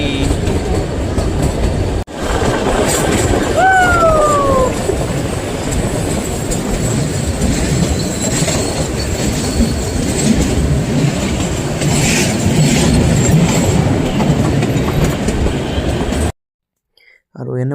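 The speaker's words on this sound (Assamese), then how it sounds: "এনেকুৱাকৈ আমি ধুনীয়াকৈ মজালৈ যাই আছোঁ দেই টয় ট্ৰেইনৰ" The Kalka–Shimla narrow-gauge toy train rolls along its rails with a loud, continuous rumble and clatter. A brief wheel squeal rises near the start, then steady running continues until an abrupt cut to near silence.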